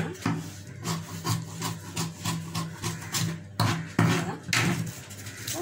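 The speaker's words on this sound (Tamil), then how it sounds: "இப்போ இதை குளிச்சு வெட்டலாம்" Scissors cut through a paper blouse pattern at close range, making a steady stream of rasping, scraping snips and rustles, with a low hum underneath.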